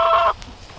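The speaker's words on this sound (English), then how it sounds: "We still have a couple of broody hens." A single short, loud cluck from a hen nearby, followed by quiet.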